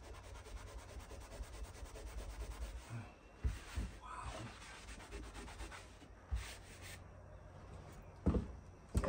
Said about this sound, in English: I figured Mr. Clean Eraser would get a lot.